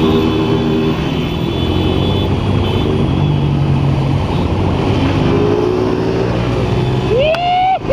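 Motorcycle engines drone loudly and steadily among a crowd on a street, a dense continuous roar with revving swells, closing with a short rising whine.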